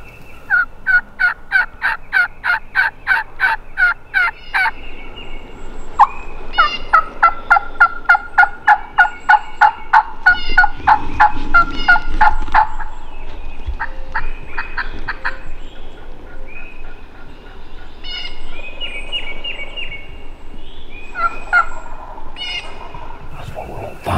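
Wild turkey gobbles ring out in repeated rattling bursts during a Mississippi spring hunt, loud and fairly near, several gobblers answering one another amid woodland birdsong with no talk.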